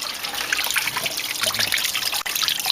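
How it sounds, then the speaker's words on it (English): Clean water trickles steadily out of an Olds 394 engine block after a rust flush, a close, continuous splashing dribble with no talking. "It's just running clean water out."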